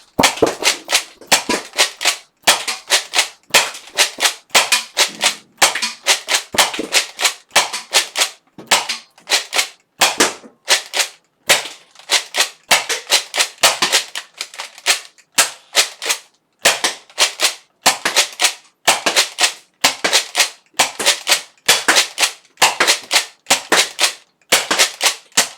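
A Nerf Hyper Impulse 40 blaster fires foam darts at a board in dozens of rapid, sharp snapping pops, arriving in quick uneven bursts with short pauses between them. The shots are close and loud, with no talking.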